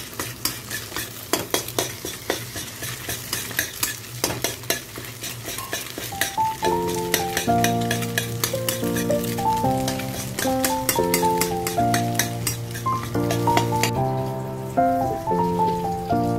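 An egg is lightly fried in a pan for noodles, giving steady crackly sizzling with clicking stirring and scraping, joined partway through by a melodic music bed playing underneath.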